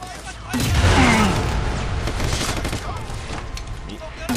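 Dense gunfire and explosions in the open-world action game Sleeping Dogs, a loud sustained barrage with booming blasts, while someone talks over the chaos.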